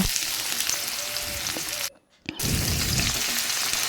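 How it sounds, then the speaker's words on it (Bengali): Vegetables for fried rice fry in a kadai with a loud, continuous close sizzle, broken by one brief pause in the middle before the hissing resumes. "এবার আমি সেই একই কড়াইতে আবার এই সবজিগুলো আমি এক এক করে ভেজে নেব"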